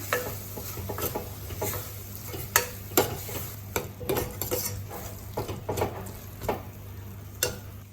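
Tomatoes with turmeric and chilli powder sauté in a pan, a soft sizzle under repeated scraping and clinking of a spoon stirring against the metal, irregular taps throughout with no talk.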